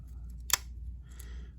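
The scissors on a Victorinox Swiss Army knife give one crisp, close snip, with a fainter second cut that follows a moment later.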